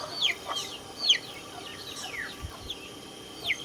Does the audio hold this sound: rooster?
yes